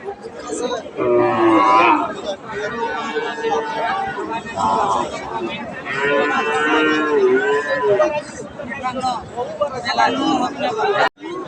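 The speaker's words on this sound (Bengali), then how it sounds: "এই যে আমরা এই গরুটা দেখছিলাম এটা হালকা লোডের একটা গাভী" Cows moo in long, drawn-out calls over the steady murmur of a crowd at a Bangladeshi cattle market before Eid al-Adha, with people chattering nearby throughout.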